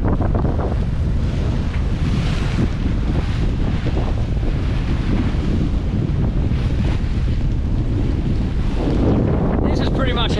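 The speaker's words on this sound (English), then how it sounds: "we've got 25 knots from the north, or northeast, and we're just bashing into waves" A sailing yacht beats into waves on a 25-knot northerly off the Ningaloo coast, with loud, constant wind roar buffeting the microphone and rushing, splashing surf slamming against the hull throughout.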